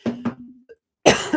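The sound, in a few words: cough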